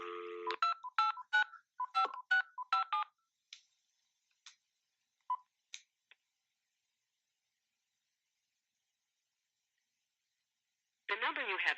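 Telephone keypad tones dialing a number for a call, a rapid run of about ten short beeps in quick succession, then a few sparse, fainter tones, a long silence and a brief burst of sound at the end.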